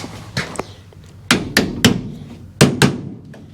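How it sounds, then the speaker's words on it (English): Sharp metallic blows from a body hammer striking the sheet metal of a 1957 Chevy hardtop, about eight distinct taps arriving in irregular pairs and singles, close and loud. "Grab my body hammer."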